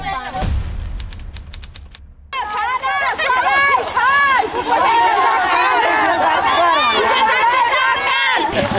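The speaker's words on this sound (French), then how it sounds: "We are in a rally. We have around more than 100 people, all mostly women." Large outdoor rally of more than a hundred people, mostly women, in Nepal: loud, dense chanting and overlapping voices fill the air continuously, with a brief burst of louder sound at the start before the crowd noise swells.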